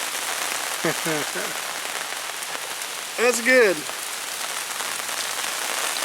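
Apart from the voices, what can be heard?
rain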